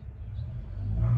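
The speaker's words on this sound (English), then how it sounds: "That's the mail truck." A mail truck rumbles past outdoors, a low engine drone that swells and grows louder toward the end, with no one talking.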